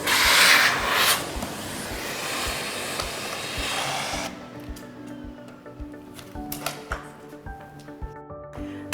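A Blizzard CX1 vacuum cleaner fitted with its upholstery brush works over furniture, a loud steady rushing hiss in the opening seconds that then drops to quieter scrubbing and rubbing with scattered light knocks.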